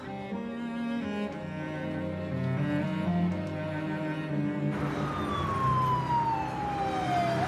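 An ambulance siren wails over a steady traffic hum, its tone sliding downward near the end as if passing by, in a dubbed French TV drama scene without speech.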